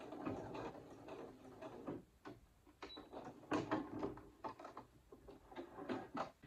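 A sewing machine stitching a line across coiled rope for a Christmas rope bowl, running in uneven mechanical bursts of whirring and clattering at close range, with brief pauses between runs.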